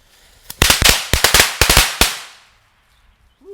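PGI firecrackers go off in a rapid string of about a dozen sharp, loud bangs packed into under two seconds, very close, then a quiet tail of fading echo.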